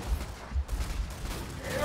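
Gunfire in the video game Killing Floor 2, a rapid burst of shots thumping and crackling over dense game noise, loud and continuous through the moment.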